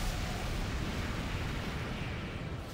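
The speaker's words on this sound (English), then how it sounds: "It's really hard hitting him with the plasma cannon." A plasma cannon fires in an Armored Core: For Answer mech battle, a dense continuous roaring blast that holds loud and steady with no pause.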